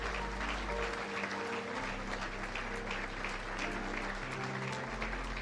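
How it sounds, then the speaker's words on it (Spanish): A church congregation applauding during an evangelical service; steady, dense clapping from a large room, heard moderately far, with a low sustained organ or keyboard tone underneath. "Más fuerte ese aplauso, hermano, más fuerte"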